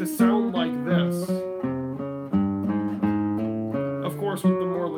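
Slow guitar technique exercise with slurred, legato notes, a steady series of clear plucked tones with sustained harmonics in a measured rhythm, played alone and up close.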